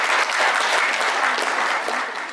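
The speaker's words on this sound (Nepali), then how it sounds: "ल, ताली बजाइदिनु सबैजना" Wedding guests at a Nepali Christian ceremony clap together in a loud, dense burst of applause that holds steady for a couple of seconds before easing slightly.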